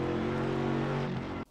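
An iRacing Mercedes AMG GT3 race car at Spa, engine droning steadily at high revs under throttle with clear harmonic whine, loud and close, then cutting off abruptly near the end.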